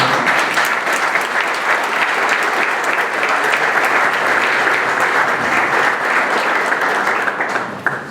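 A room full of people applauds after a speaker is introduced at a talk on sustainable and profitable agriculture, producing dense, loud, sustained clapping that holds steady and then tapers off at the very end.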